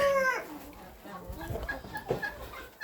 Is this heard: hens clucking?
yes